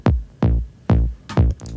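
Knifonium synth bass in an Ableton project: four deep, punchy plucked bass notes with fast-decaying tails in a short rhythmic phrase, loud and upfront with no talking.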